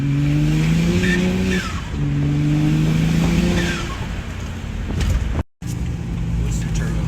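BMW 135i turbocharged car accelerating hard, engine rising in pitch through two pulls with a brief lift between, loud and close, with faint tire noise and a short dropout near the end.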